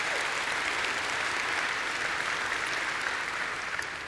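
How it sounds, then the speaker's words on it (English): A keynote audience at a tech conference breaks into sustained applause, an even, crowded patter filling the hall from start to finish and fading slightly at the end. "I would like to get some applause for the team that really worked really hard on this."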